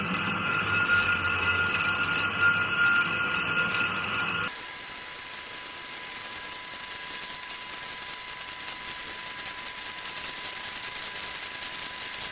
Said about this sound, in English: So we can get that off on the bandsaw, I suppose.